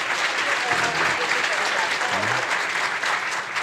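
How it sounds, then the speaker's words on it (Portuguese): A live audience at a cultural talk event gives sustained, dense applause for Marcos, filling the whole stretch with steady clapping while a voice briefly sounds beneath it. "Um palmo de palmas para o Marcos, gente."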